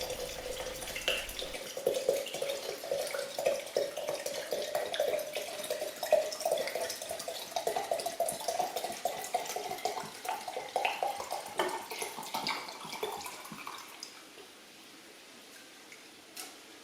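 Gin poured into a 5 litre Kilner jar of sloe berries and sugar, a quiet continuous trickling, splashing pour lasting about fourteen seconds before it stops and near-silence follows.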